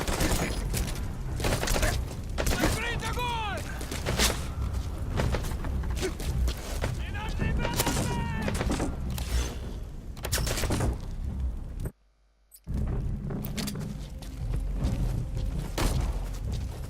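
Loud weapon gunfire in Metal Gear Solid V: Phantom Pain rattles in dense, continuous bursts of shots with booms and impacts, broken by one brief silent gap, with a voice speaking faintly underneath.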